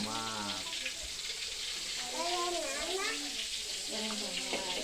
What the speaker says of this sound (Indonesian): Tomat, ini goreng tomat.